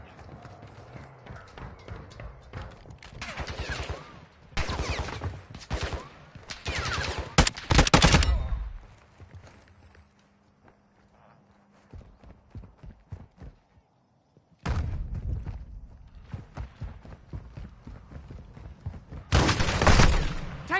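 Gunfire in Modern Warfare 2 online play, sharp rapid bursts of shots and clattering in clusters, loud and close, broken by a quieter stretch with a faint hum before more volleys resume.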